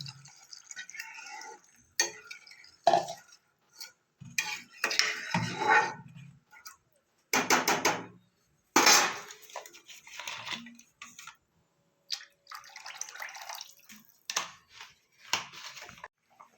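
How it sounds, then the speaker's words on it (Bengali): Water pours and splashes into a pot of spiced potato curry for masoor dal bora dalna, arriving in short, uneven bursts with some stirring and clinking of the pan in between. "এবার আমি জল দিয়ে দেবো জলটা একটু বেশি দিতে হবে"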